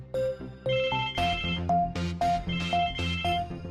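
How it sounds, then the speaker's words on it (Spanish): A telephone rings with an electronic ringtone: a bright, repeating melodic pattern of short tones in an even rhythm, clear and close, with no one talking. "Un día suena el teléfono."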